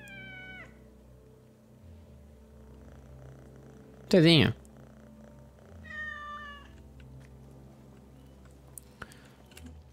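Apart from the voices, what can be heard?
cat meowing in video game Assassin's Creed Mirage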